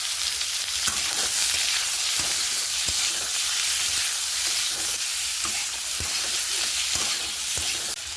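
Boiled papaya and potato fry in hot oil with whole cumin and slit green chillies, giving a loud, continuous close sizzle with occasional soft stirring knocks and no talk.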